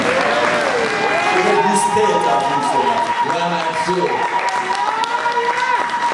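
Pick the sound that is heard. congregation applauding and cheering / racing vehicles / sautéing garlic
congregation applauding and cheering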